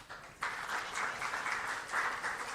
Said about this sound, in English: I thought you'd be clapping more than that.